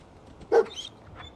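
Dogmeat, the German shepherd companion in Fallout 4, lets out a single short bark in a quiet game scene, with faint softer yips trailing after it.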